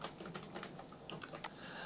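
Typing on a computer keyboard while writing in a Microsoft Word document: a quick, irregular run of light key clicks, close and fairly quiet, with no voices.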